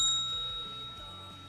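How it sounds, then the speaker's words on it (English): A bright bell ding rings out once at the start and hangs in a long, slowly fading shimmer over a faint low hum, alone with no talk. "The bell. The bell."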